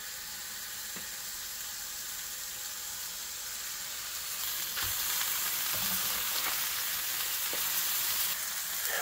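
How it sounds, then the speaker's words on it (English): Burger patties for loco moco frying in oil in a hot pan, a soft steady sizzle that swells louder midway, with a few light knocks as they settle. "Once hot, add your patties"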